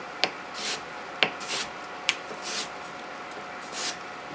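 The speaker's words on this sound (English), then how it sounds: "And we're just going to slice this apple up." A knife slices an apple up close: three sharp clicks as the blade meets the surface, each paired with soft, brushing strokes in a loose rhythm.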